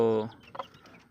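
A mother hen clucks once in a short voiced call, followed by a faint, softer peep or cluck from a small bird nearby, all fairly quiet.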